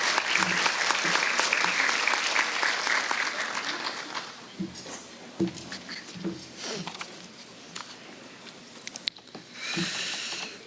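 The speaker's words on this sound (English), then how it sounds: "so we can applaud your efforts" An audience at a youth health awards evening claps loudly and densely for several seconds, the applause thinning into scattered claps and fading, then swelling briefly again at the end.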